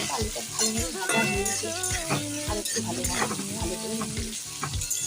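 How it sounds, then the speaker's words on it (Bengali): Potatoes frying in a pan with salt added, being stirred; a steady sizzle runs throughout with scraping stir strokes, while tonal background music plays over it, fairly loud and continuous. "লবণটা দিয়ে আমি আর একটু ভালো করে ভেজে দিচ্ছি"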